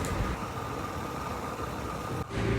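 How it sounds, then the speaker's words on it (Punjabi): Yamaha 125 motorcycle riding in fourth gear across a river bridge, a steady droning engine with wind rush, constant and fairly loud, with a brief dip near the end. "ਮੋਟਰਸਾਈਕਲ ਹੈਗਾ ਚੌਥੇ ਗੇਅਰ ਦੇ ਵਿੱਚ"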